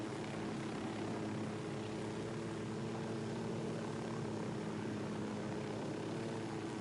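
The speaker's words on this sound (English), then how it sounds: "This might be the suckiest airplane landing in history." A propeller airplane's engine drones steadily and loudly throughout as it comes in to land in Ghost Recon Wildlands, a constant whirring roar with no speech.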